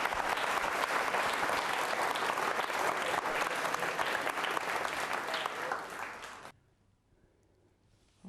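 An audience at a Rajasthan quiz show on organ donation breaks into loud, dense applause that holds steady for about six seconds, then cuts off abruptly into near silence.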